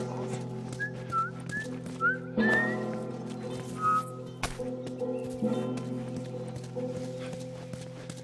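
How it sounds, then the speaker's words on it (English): A person whistles a few short rising notes during gameplay of The Last of Us, faint over a steady hum, with horse hoof clip-clops and scattered clatter in the background. "I'm whistling."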